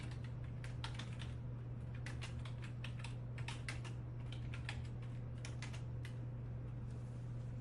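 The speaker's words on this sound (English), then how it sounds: "let's just type it all in" Steady, quick keystrokes on a computer keyboard, entered as a search for a BLM travel management plan, come in irregular bursts close to the mic over a constant low electrical hum, with no talking.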